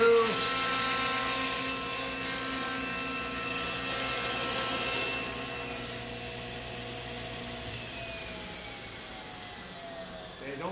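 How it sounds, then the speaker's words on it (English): A table saw blade cuts through a solid wood panel on a crosscut sled, giving a steady, loud whine that holds for about ten seconds with little change. "Just push the sled far enough that you see the blade cut through the top surface of your panel."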